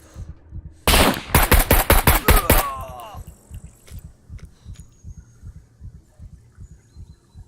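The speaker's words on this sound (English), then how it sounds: "They're shooting me." Rapid automatic gunfire in the video game SCUM, a loud burst of about nine close shots over two seconds, followed by softer repeated thuds.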